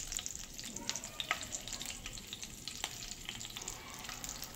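Lentils and green chillies fry in a pan for rawa khichdi, crackling and popping in quick uneven bursts over a continuous hiss at close range.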